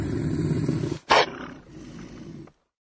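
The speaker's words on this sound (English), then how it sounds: "This is a wolverine." Wolverine roaring: one loud, rough burst cutting in partway through, set against a steady roaring animal background that fades out before the end.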